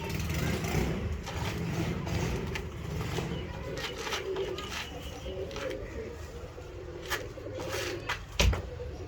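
Pigeons coo softly in low, rolling murmurs amid a busy outdoor background with traffic rumble and scattered clicks and knocks, ending in a brief loud thump.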